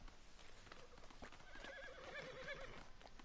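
A horse in a video game neighs with a shaky whinny over a steady layer of clip-clopping hooves and ambient game noise, fairly faint overall.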